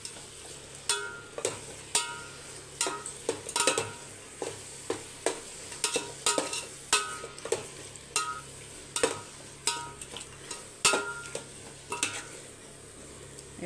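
Green chillies and curd being stirred in a pan on the stove, a steady series of distinct spoon clanks against metal roughly every half second under a soft sizzle.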